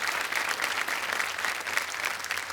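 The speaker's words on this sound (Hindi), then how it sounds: "तालियों के साथ इनका स्वागत करते हैं।" Sustained studio audience applause on a Kaun Banega Crorepati game show set, dense steady clapping from many hands filling the hall, even in loudness throughout with no talking over it.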